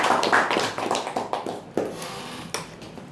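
A small audience at a meeting claps in scattered, uneven bursts that fade toward the end, fairly close and moderately loud, with no talking over it.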